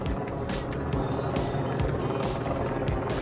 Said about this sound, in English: That is a police helicopter over this area right now.